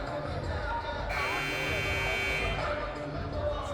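A buzzer sounds at a boys' varsity high school basketball game in a gym, one loud sustained blast of a bit over a second over crowd murmur, with a commentator talking around it.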